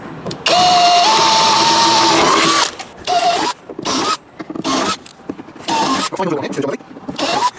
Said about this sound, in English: we're going to start the long process of drilling out all the rivets all along here